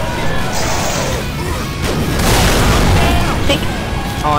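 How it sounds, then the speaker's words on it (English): Crashing and booming impacts in the zombie game Left 4 Dead 2 as a Tank hurls an explosive rock, a loud continuous rumble of smashes and bursts with a heavy crash partway through, with a voice speaking over it. "Alright, tank's gotta throw a rock."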